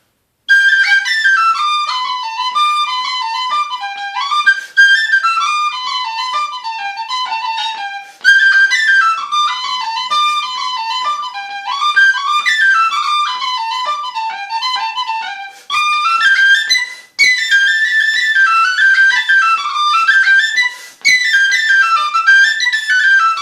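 A D tin whistle plays a lively melody alone, bright clear notes in quick runs with brief breath pauses between phrases.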